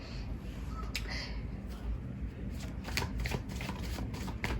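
Tarot cards are shuffled and handled close up in a run of quick riffling flutters and soft snaps over a quiet room, with no speech over them.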